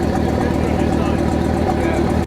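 A damaged, rebuilt Lamborghini's engine idles close by with an abnormal ticking from its left side, producing a steady, dense hum that stays constant throughout.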